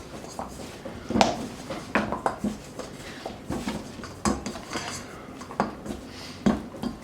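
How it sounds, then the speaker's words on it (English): Pork hog wings tossed and mixed in flour inside a bowl, producing repeated soft thumps, rustles and light clatters in an uneven rhythm, close and moderately loud. "we're just going to mix this all up so the hog wings are covered with the flour."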